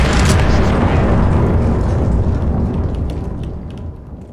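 A bomb explodes after being shot in a first-person shooter match on a Dune map, bursting in a loud, broad blast that slowly rumbles and fades away.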